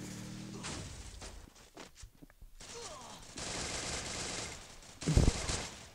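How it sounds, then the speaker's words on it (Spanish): Gunfire crackles in the Free Fire battle royale as shots come at the player near the Factory area, with bursts of rapid machine-gun fire, scattered single cracks and a louder close volley near the end. "Y ahora me están disparando de Factory"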